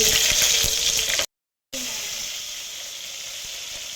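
Shahjeera, masala spices, bagara leaves, chilies and onions fry in hot oil with a bright, even hiss. The sizzle breaks off for a brief silent gap, then carries on slightly quieter.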